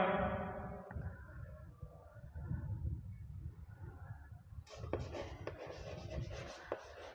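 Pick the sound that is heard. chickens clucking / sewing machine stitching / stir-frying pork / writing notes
writing notes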